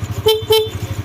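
The stock horn of a Honda Winner X motorcycle gives two short, loud honks close by over the steady idle of the engine.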